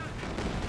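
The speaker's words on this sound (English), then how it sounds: "Stuka bombs coming on in, cleaning a lot of the infantry" Stuka dive-bomber bombs explode in Company of Heroes 2 during a 4v4 battle on the Lienne Forest map, a dense, continuous rumble of blasts that fills the whole short moment.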